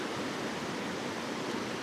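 The Akvari River flows down through the mountains of Georgia, a steady broadband roar of rushing water heard alone and evenly throughout the short stretch.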